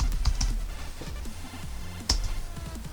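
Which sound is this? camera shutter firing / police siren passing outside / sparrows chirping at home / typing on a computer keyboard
typing on a computer keyboard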